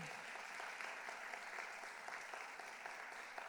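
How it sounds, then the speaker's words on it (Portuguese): Sustained applause from a church audience during a service, dense steady clapping that fills the space without pause, with a few faint voices mixed in. "Você pode aplaudir Jesus pela vida da Rose?"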